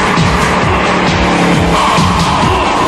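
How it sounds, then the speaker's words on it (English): Dodge truck with a 5.9 Magnum V8 spinning its tires, a loud continuous squeal and engine roar filling the whole stretch without a break. "The tires get the soprano part of this tune screaming on demand"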